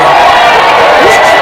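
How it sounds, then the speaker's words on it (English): A booing crowd effect fired from a soundboard button, a brief, loud burst of massed jeering voices that fills the whole short moment. "I could hit the booing button if you want."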